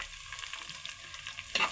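Small onions (shallots) sautéing in a pan for sundakkai kara kuzhambu give a soft, steady sizzle with light stirring, and a brief louder scrape of a spoon comes near the end.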